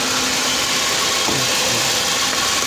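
A 2017 Toyota Vios with a dual VVT-i engine idling with a misfire, a steady close engine drone with an uneven, knocking roughness.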